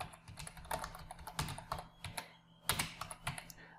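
Keys clicking on a computer keyboard as someone types, quick irregular bursts of taps with short pauses, close and clear over a faint steady hum, with no voice present.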